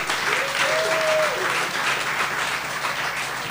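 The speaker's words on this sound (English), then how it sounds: "let's give our chefs a round of applause." An audience at a chef cooking competition claps in steady applause for a few seconds, with a brief whoop or whistle rising above the clapping.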